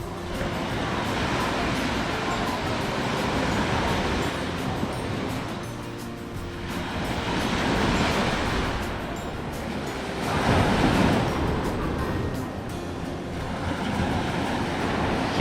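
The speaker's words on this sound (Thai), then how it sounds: "เสียงคลื่นน้ำ" Waves roll onto a beach at Ban Chang, Rayong, and wash out in slow swells, a broad steady roar of surf rising and falling with wind, fairly close.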